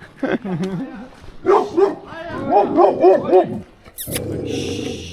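A dog barks repeatedly in quick, excited bursts nearby in the Caucasus mountains at Mestia, Georgia, its yelps rising and falling, followed by a short rushing noise at the end.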